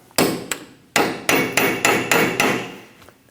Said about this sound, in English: Using a chisel and a hammer, we're going to stake our axle nut